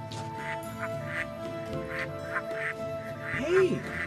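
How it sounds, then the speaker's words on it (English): Ducks quack in the Baten Kaitos video game, a series of short, nasal quacks spaced through the scene over steady game music, with one louder honking call near the end. "here we have a bunch of birds"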